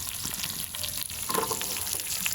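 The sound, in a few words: onions frying in pan for intestine fry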